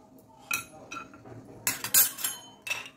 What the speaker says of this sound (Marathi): मी कढईत टाकून घेते 8-10 बदाम टाकून घेते